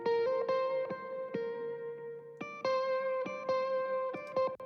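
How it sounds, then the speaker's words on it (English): A high octave lead guitar line rides over a repeating plucked pattern in a song, the notes close and clear in a steady, continuous rhythm. "I add in this high octave of the lead."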